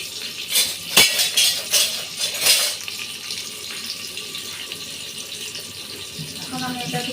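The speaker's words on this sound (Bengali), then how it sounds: "এটা একটু নাড়াচাড়া দিয়ে দিচ্ছি।" Onions being stirred in a pot for pulao, with sharp clinks and scrapes of a utensil against the pot early on, settling into a quieter low sizzle with faint clatter later.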